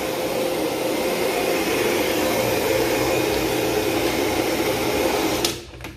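A vacuum cleaner runs steadily while vacuuming carpet in an empty house, a loud continuous whine and roar that cuts off near the end.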